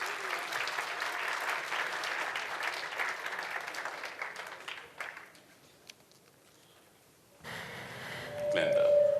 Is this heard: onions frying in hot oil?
no